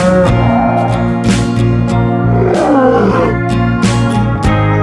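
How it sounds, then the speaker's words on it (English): A lion roars several times in an animated children's story about a lion and four cows, loud rough growling bursts over a steady musical backdrop with no talking. "The lion tried several times to attack."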